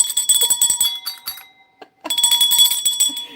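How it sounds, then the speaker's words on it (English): A small handbell rings loudly and close in quick shaking bursts, pausing briefly in the middle before ringing again. "The bells."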